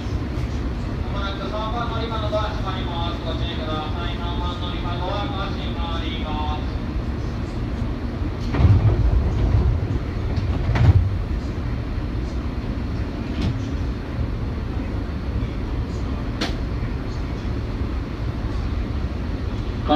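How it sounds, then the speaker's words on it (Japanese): An electric train hums and rumbles steadily as it pulls out, with a rising motor whine, a few clunks, and a voice announcing over it. "発車いたします。"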